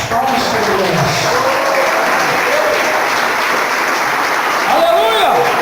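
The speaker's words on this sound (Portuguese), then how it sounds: "Desocupa as mãos e louva Jesus com aquelas palmas fervorosas." A church congregation claps fervently in praise during a Portuguese-language sermon, dense sustained applause filling the room, with voices calling out over it and a swell near the end.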